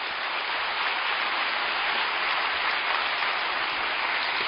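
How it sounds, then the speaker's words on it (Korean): A church congregation welcomes its pastor at an early-morning prayer service with warm applause, a dense, even wash of many hands clapping that stays steady and loud throughout, with no voices over it. "우리 뜨거운 박수로 환영하고 축복했으면 좋겠습니다."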